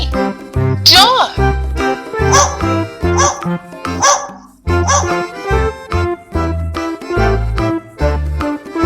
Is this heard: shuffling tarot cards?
no